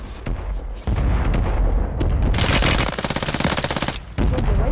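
Call of Duty gunfire in a multiplayer match: rapid automatic bursts and sharp shots rattle loudly and almost continuously, with one long rhythmic machine-gun stretch near the end.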